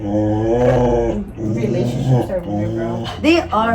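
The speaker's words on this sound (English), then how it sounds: "Please excuse my dog, guys." A pet dog growls and whimpers low beneath two people chatting during a nail salon session, a rumbling snarl running under the conversation.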